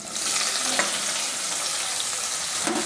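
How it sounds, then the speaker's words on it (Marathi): Finely chopped onion frying in a pan with garlic, ginger and dried red chillies for dal tadka, a steady close sizzle with a brief stir partway through. "आता कांदा छान गुलाबी रंगावर तळून घ्यायचा आहे।"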